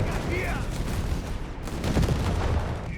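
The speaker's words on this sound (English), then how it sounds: "Grenades and artillery here" Artillery shells and grenades burst in a busy Company of Heroes 3 battle, Afrika Korps against US forces. A steady wash of gunfire and booms plays under a commentator's voice.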